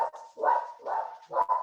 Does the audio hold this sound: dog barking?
yes